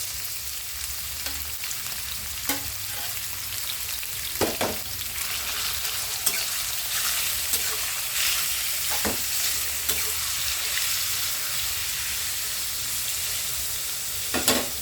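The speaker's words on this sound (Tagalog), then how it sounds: "Ilagay natin una itong pork until mag-brown siya" Pork pieces frying in a modest amount of cooking oil until browned, a steady close sizzle with occasional sharper pops and stirring clatter throughout.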